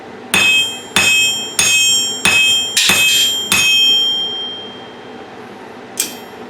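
Six sharp, ringing hammer blows strike a quarter-inch bolt on a 66-pound Vevor steel anvil, evenly spaced and loud, each with a bright metallic ping, followed by a lighter tap after a pause.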